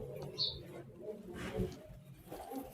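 Pigeons coo softly at close range in a few low, throaty calls, with faint background noise and a light scuffle.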